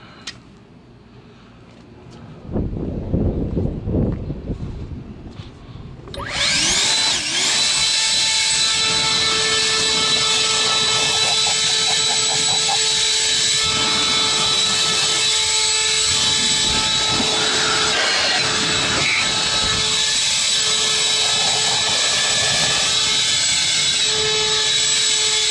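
A Kobalt cordless leaf blower starts up after a few quiet thumps and then runs at a loud, steady high-pitched whine, drying a car outdoors.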